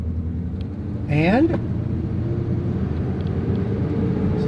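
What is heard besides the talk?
old Ford truck engine running on road test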